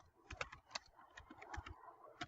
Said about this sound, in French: Je tape le slash, donc avec Alt gras et la touche 8 du clavier